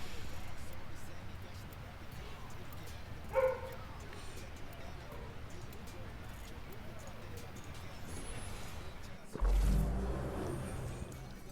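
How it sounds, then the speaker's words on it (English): A dog barks once, fairly faint and in the distance, beneath steady room noise and talking. "Is my dog barking?"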